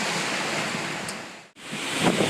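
Glacier meltwater rushing and spraying down a canyon below Mt Hood's Paradise Park in Oregon, a loud steady roar of water with wind buffeting the microphone and a brief dropout midway.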